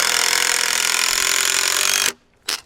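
An impact driver rattles loudly and continuously for about two seconds, driving a screw into a raised garden bed board, then stops and gives one short final burst.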